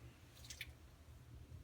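Water trickles and drips off a dental impression held under a running tap, a few faint, brief splashes over a low steady background hum.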